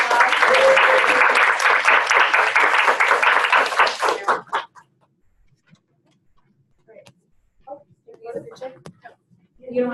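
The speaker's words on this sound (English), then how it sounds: "if you can give them a round of applause" An audience applauds a graduate student panel with loud, dense clapping for about four seconds, which then stops abruptly and gives way to near silence and a few scattered voices.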